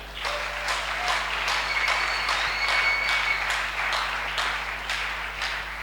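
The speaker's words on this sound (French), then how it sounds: "Acclamons pour lui, c'est bon." A church congregation applauding, steady loud clapping from many hands over a faint electrical hum, with no talk.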